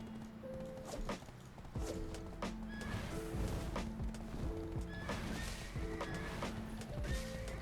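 Horse in the online game Black Desert Online, with rhythmic hoof clops and thumps repeating steadily, close and clear, mixed with game combat sound effects.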